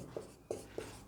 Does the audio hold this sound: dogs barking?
no